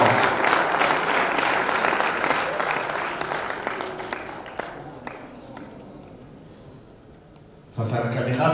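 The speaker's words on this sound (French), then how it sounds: "On les applaudit bien fort," Audience applause at a French-language school quiz contest, loud dense clapping that slowly fades over several seconds before a fresh burst breaks out near the end.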